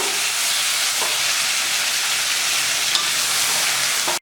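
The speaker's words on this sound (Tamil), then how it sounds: "இப்போ மேரினேட் பண்ணி வச்சு இந்த மட்டனை போடலாம் கிளறி விட்டுருவாங்க" Marinated mutton sizzles loudly as it hits sautéed onions in a hot pan for a mutton curry, a steady dense frying hiss with a few faint scrapes of stirring, close and continuous with no talk.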